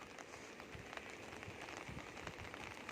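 Rain falls steadily outdoors during a fishing outing in stormy low-pressure weather, a soft, dense, even hiss of drops pattering on surfaces that stays constant throughout with no voices.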